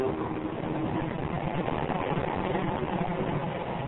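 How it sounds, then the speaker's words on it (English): A Rover Coupe runs flat out at maximum revs in top gear on a banked test track, near 160 mph, giving a loud, steady, unbroken engine roar with wind and road noise throughout. "At maximum engine revs in top gear, they're nudging 160 miles per hour."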